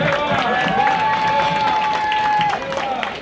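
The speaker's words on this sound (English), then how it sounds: "let's give another round of applause to Karen Suozzi" A crowd at a political candidate's campaign event gives loud, sustained applause mixed with cheering and crowd noise, with a steady tone and voices running under it.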